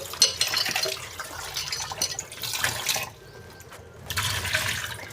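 Potatoes washed by hand in water: close splashing and sloshing with running water comes in bursts, easing to a quieter pause before the swishing resumes.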